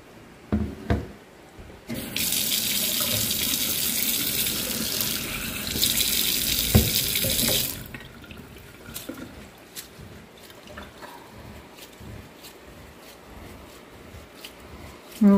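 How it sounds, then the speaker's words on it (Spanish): Tap water gushes into a sink for about six seconds while rice is washed for a rice atole, a steady loud rush that then gives way to quieter splashing, knocks and swirling water. "ahí estoy lavando el arroz para poderlo poner en la ollita"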